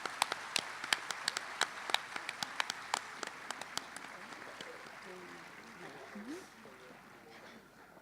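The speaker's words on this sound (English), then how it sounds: "let's give them another round of applause" At the WUF9 closing ceremony, a few sharp, separate claps ring out close by at first. They thin out as a voice begins speaking over faint room noise.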